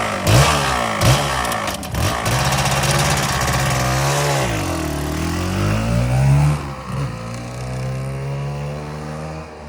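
A KTM 300 EXC two-stroke dirt bike that has been sitting, running after being kick-started, its engine loud and close, crackling through revs that rise and fall in a steady rhythm, no voices.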